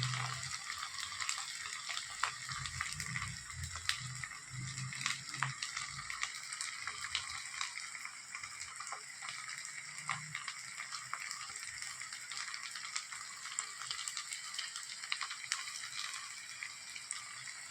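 Food frying in hot oil, a steady broadband crackle that holds throughout at moderate, close level, with no talk over it.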